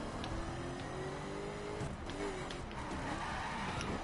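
Twin turbo car engine in The Crew racing game, a steady droning engine note with shifting pitch and brief tire squeal, fairly quiet with no talk.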